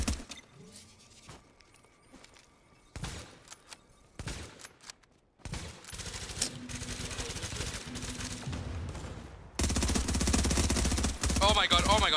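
Video game gunfire from The Division, a Last Stand match, in bursts of rapid automatic shots and single reports that grow louder and denser toward the end, with other game noise between.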